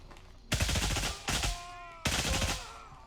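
Gunfire from a DDM4 rifle in the video game Gray Zone Warfare: three loud, booming shot bursts spaced roughly 0.75 seconds apart, each ringing out with a long echoing tail, with no talk over them.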